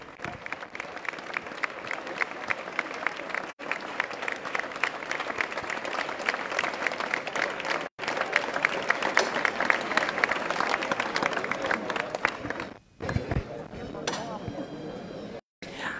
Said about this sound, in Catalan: Anem a sentir els aplaudiments